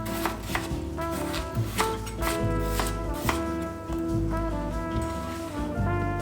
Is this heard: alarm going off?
no